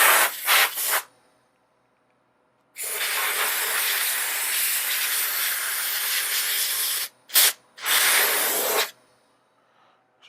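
Aerosol spray hisses over the backs of nuts and bolts being powder coated, in a short double burst, then a long steady blast of about four seconds, then two quick bursts, close and loud.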